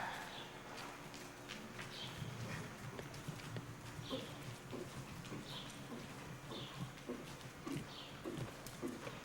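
A horse canters around an indoor riding arena, its hoofbeats falling in a steady three-beat rhythm at moderate distance over a diffuse, roomy background, with no voices.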